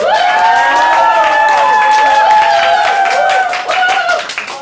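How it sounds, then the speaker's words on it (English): A school debate audience on school uniforms claps in quick, dense, sustained applause close by, with some cheering voices, then it thins out toward the end. "I can say you clapped enough"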